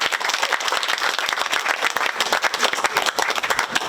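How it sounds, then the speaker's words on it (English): Applause for a graduating team at a first graduation ceremony for a mobility and motorcycle-taxi repair training class, dense crowd clapping that stays steady and fairly loud from start to finish. "let's give one round of applause to this splendid team."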